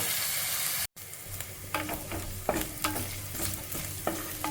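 Crushed ginger and garlic frying in hot oil for chicken curry, a steady close sizzle broken by scrapes and clatters of stirring, with a brief dropout near the start.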